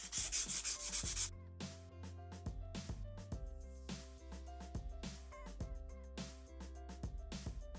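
A gel nail on a tip is buffed with a file, coarse grit first and then fine. The strokes come as a rapid gritty rasp at the start, then lighter scratching over a musical background.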